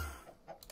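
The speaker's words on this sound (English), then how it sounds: "Gotta move the chickens." Chickens in an All The Mods 7 To The Sky Minecraft modpack give short, faint clucks, a few soft bursts spread over under a second.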